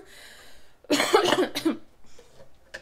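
A person coughs hard in a short, loud burst of several coughs close by, followed by quieter throat sounds.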